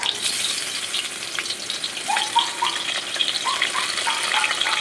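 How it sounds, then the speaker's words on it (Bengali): Pointed gourd (potol) pieces shallow-frying in oil in a wok, giving a steady, close sizzling hiss that runs throughout with a few small bubbling pops and no voices. "তেল দিয়ে আমি একটা একটা করে পটল ভেজে নেব"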